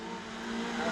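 MG race cars streaming past on the track at Oulton Park, a steady engine drone at middle distance with no talking.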